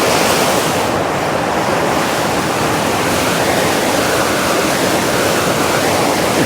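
A shaving brush whips Phoenix CK6 shave soap into lather in a close, continuous wet swishing hiss that stays loud and uniform from start to finish.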